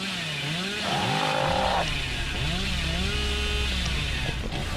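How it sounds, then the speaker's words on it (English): The Hillbilly's chainsaw in Dead by Daylight revs and whines up and down in pitch, with a sustained high roar in the middle, loud and steady throughout. "Nope. Don't get chainsaw."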